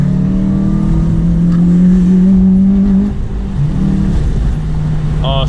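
An 8th-generation Honda Civic Si drives through turns on a bumpy road, its engine droning steadily from inside the cabin with the pitch rising and falling through each bend.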